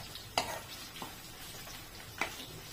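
Potatoes fry in oil in a home kitchen, a soft, faint sizzle under a few sharp clinks and scrapes as a utensil stirs the pan.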